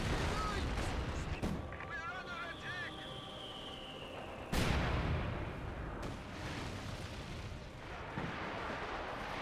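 Mortar shells land in the video game Company of Heroes 2 as dull booms and crackling blasts under a steady rumble of battle, one sharp impact standing out midway, with scattered game sound effects layered through the mix.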